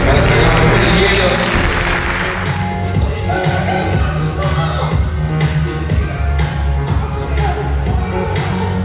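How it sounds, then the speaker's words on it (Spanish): An audience at a men's bodybuilding contest in Coronel Suárez applauds the athletes, steady clapping and crowd noise running throughout while an announcer speaks over it. "A ver si le damos un aplauso a los atletas para sacarnos el hielo."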